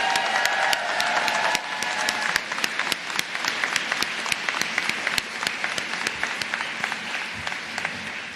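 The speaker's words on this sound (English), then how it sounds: "let's take a moment to give a round of applause for our amazing faculty" A commencement ceremony audience applauds the faculty, a dense burst of many hands clapping that thins into scattered, sharper claps toward the end, fairly close and loud.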